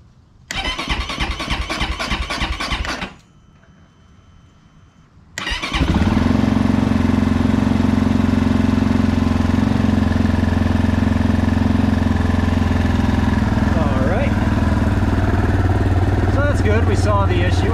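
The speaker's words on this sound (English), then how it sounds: "we're gonna try to start the bike and we're gonna see what happens." A GPX FSE300R motorcycle engine cranks briefly, pauses, then cold-starts and settles into a steady, loud idle that runs to the end.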